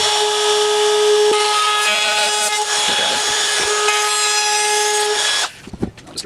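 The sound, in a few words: router cutting wood around screws on a cigar box guitar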